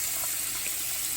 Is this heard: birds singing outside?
no